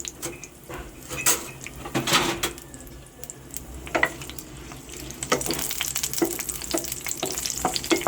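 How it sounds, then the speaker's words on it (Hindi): Red chillies sizzle and crackle in hot oil while cooking khichda, with steady frying hiss broken by sharp pops and occasional stirring clinks from a pot, no talk over it. "इसके बाद ये तेल गर्म हो जाएगा, इसके बाद हम ये लाल वाली मिर्ची डाल देंगे अच्छी तरह से"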